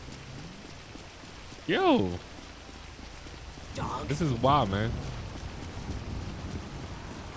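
Steady rainfall hisses across the street in modded Grand Theft Auto V, an even wash of noise beneath two short bursts of someone talking.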